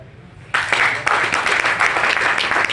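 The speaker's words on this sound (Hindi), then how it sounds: "तालियां बजा।" A small audience at an RCM business marketing talk in India starts clapping after a brief quiet moment, an uneven patter of hands that stays moderately loud and somewhat sparse until the end.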